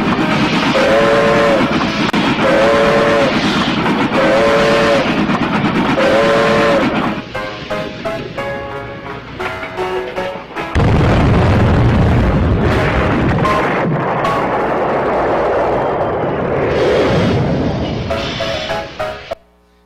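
Two trains of the 1841 era colliding in the United States, with whistle blasts followed by a loud crashing impact, rumbling booms and clattering debris, dramatized at high volume with no speech.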